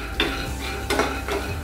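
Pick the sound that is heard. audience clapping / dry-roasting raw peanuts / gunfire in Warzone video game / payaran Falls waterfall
dry-roasting raw peanuts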